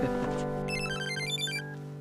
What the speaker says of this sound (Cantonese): 誒，洋洋，你喺邊度打嚟㗎？ 呢個電話號碼未見過嘅